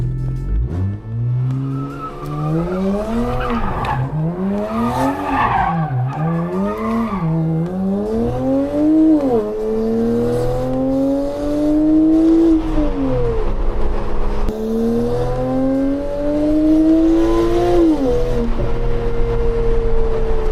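A car engine roars and revs hard at a car meet while tires squeal and skid in long, wavering howls, loud and close throughout.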